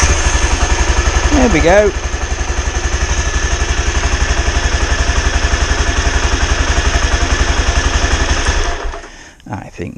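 An Aprilia Pegaso 650 motorcycle engine, just repaired after a woodruff key fix, runs at a steady, loud, close idle with an even thumping beat for about nine seconds, then cuts out; someone speaks briefly over it.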